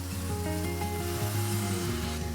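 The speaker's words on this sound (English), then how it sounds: "Stir for a few minutes and allow the noodles to absorb the sauce." Udon noodles with shimeji mushrooms, carrots, napa cabbage and sauce sizzle and fry steadily in a hot pan, a continuous close crackle over a low tonal hum.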